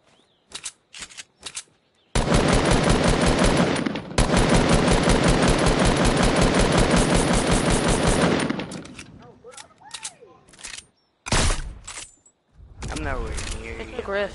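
Carbine gunfire in the Fortnite video game: a few short bursts, then a long, rapid, loud string of shots lasting several seconds, followed by scattered single shots and game effects, with a player talking in between.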